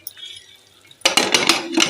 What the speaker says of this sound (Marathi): इथे आपण आता कुकरचं झाकण लावून